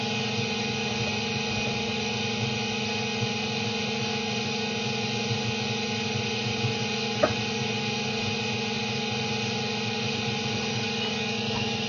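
A Tyco '40 Ford Coupe HO slot car running on a dyno gives a steady, loud, even motor whine with a constant electric hum and no breaks, alone without voices.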